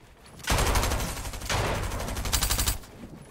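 Rapid bursts of automatic gunfire from a video game arena match, loud and dense in three sustained volleys with a short pause between them, no talking.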